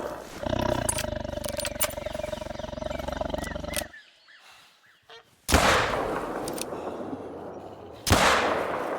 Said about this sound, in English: I missed the second shot, but that first shot was good